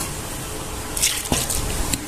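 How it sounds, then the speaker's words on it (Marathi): Wheat flour dough coated in oil is kneaded by hand while water is added little by little, giving soft wet squishes and a few small splashes and drips over a steady background hiss. "थोडं थोडं पाणी घालून आपल्याला पीठ मळून घ्यायचं आहे"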